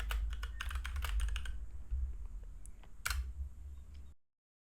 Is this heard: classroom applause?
no